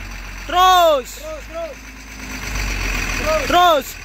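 A truck engine idles with a low, steady rumble just before pulling, while loud shouted voices carry over it.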